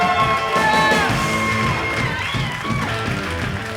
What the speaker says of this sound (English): Big round of applause for Crazy Tim.